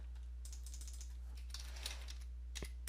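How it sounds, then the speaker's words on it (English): Quick bursts of computer keyboard typing while entering a search, light clicky keystrokes in short clusters over a low steady hum, faint and close. "into Google you want to go ahead and just type in DirectX"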